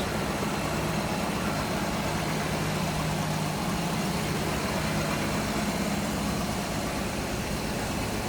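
A 1966 Ford Mustang coupe's engine runs smoothly at a steady idle, a continuous even rumble from nearby with no talking.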